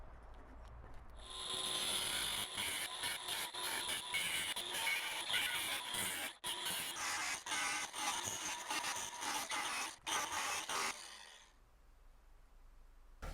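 An angle grinder cuts a channel along a crack in a cast iron woodstove, a loud, steady high whine with rapid stuttering bursts for about ten seconds before cutting off.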